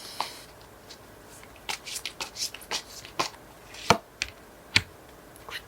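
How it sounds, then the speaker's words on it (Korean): Tarot cards are shuffled and drawn by hand, giving irregular crisp snaps and flicks of card stock, close and fairly quiet, with short pauses between bursts and no speech. "여러분들을 위한 조언 카드 한 장 뽑아보겠습니다"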